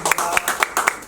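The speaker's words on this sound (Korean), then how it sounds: "우리 박수 한번 주시면" Short burst of audience clapping at a citizens' civic lecture in Ansan, a loud, brisk round of applause from a room of people lasting about a second.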